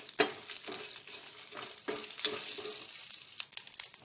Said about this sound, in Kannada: ಮೆಣಸಿನ್ಕಾಯಿ ಸ್ವಲ್ಪ ಗರಿ ಗರಿ ಆಗೋವರೆಗೂ ಹುರ್ಕೊಳ್ಳೋಣ.